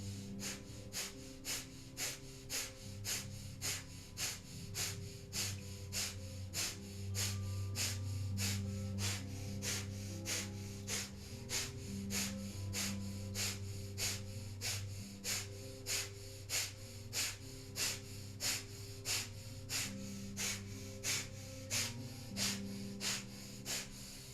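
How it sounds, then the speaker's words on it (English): Rapid breath-of-fire yoga breathing, quick rhythmic panting through the nose repeated steadily throughout, close and fairly quiet over a soft sustained musical drone. "we're just going to come into breath of fire here briefly, panting like a dog through the nose"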